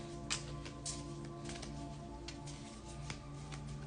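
Tarot cards are shuffled by hand in a steady, soft riffling patter of quick papery flicks, close and continuous, with a low background hum and no talking.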